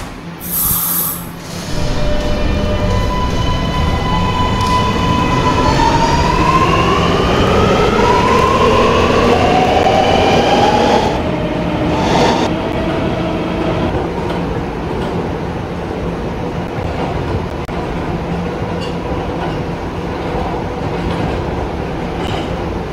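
An R211 R local subway train runs in a Roblox game, motor whine sweeping upward as it accelerates, then a steady loud rumble with clicking track noise, alone throughout.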